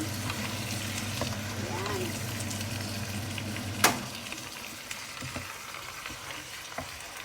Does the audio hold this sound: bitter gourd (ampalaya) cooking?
yes